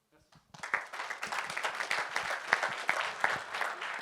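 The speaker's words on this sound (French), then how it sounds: "Toujours sous un tonnerre d'applaudissements" Audience applause fills a student project awards ceremony, dense steady clapping from a crowd starting after a brief quiet moment and continuing throughout.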